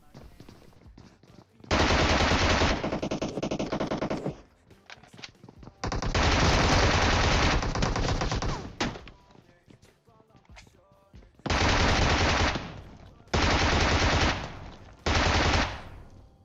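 Automatic fire from a Bizon submachine gun in an online shooter game, loud sustained bursts of about two to three seconds each, five bursts separated by quieter gaps.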